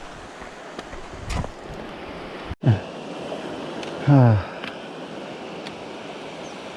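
A river rushes steadily through the landscape of Réunion island, a soft constant wash of water. A sharp knock and a few brief voice sounds break in partway through.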